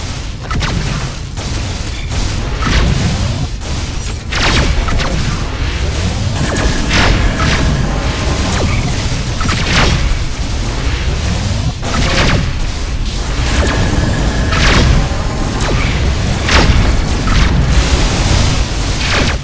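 Missiles strike a ship in a space combat video game, producing dense, continuous booming blasts and crackling bursts that pile up loudly throughout, with repeated heavier detonations and no voices.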